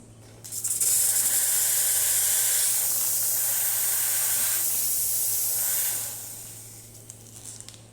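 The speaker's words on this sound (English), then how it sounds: "And then here's the steam." A loud, steady hiss of steam from a La Marzocco GS3 espresso machine steam wand rises suddenly, holds for about five seconds, then drops away to a faint background rush.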